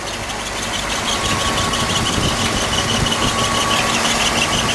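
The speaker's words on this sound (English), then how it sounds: "we'll uh, listen to it idle" Close, steady idle of a 1959 Ford Fairlane 500 Galaxie Skyliner engine, a continuous even rumble with a faint whine running through it and no speech.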